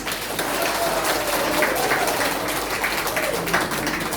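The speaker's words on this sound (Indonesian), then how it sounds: "Ini Pendeta Hinde, mari kita berikan tepuk tangan." Congregation applauding a pastor at a Christmas church service, steady sustained clapping from a crowd with faint voices mixed in throughout.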